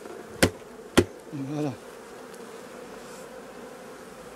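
Honeybees buzzing steadily around hive supers in a late-summer apiary, a constant low hum under two sharp knocks of equipment and a brief spoken word.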